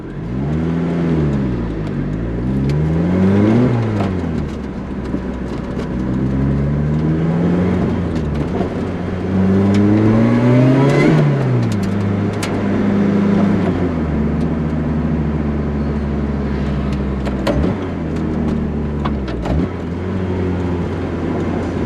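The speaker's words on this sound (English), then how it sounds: "what it's like driving this car." A Lotus Exige S sports car engine revving while driving at twilight, loud rising and falling engine pitch sweeping up through the gears with repeated surges and drops, heard from inside the car.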